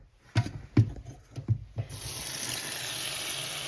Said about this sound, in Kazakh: Суын толтырып алайын.